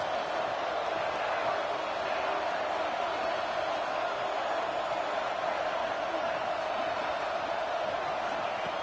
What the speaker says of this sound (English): this crowd noise. This stadium is vibrating.